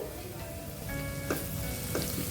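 Garlic sizzles in hot oil with salt and turmeric for a spring onion tomato curry, a steady close frying hiss with a couple of soft stirring scrapes.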